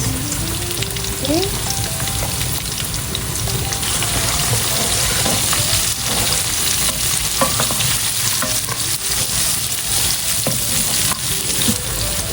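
Onions, chilies and lemongrass sizzle loudly and continuously in a hot pan for Tom Yum Goong, with stirring scrapes and clinks throughout and one short spoken word.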